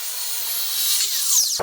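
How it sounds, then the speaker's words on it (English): A power tool cuts through a hearse's exhaust pipe while coffin mufflers are being fitted, giving a loud, steady, high-pitched grinding whine that rises in pitch and stops abruptly after under two seconds. "I'm going to go ahead and simultaneously cut the pipe and destroy my eardrums."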